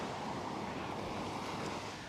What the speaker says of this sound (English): Enjoy the sounds of the ocean here in Coney.